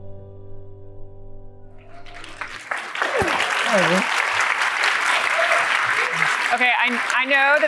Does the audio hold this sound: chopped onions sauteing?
no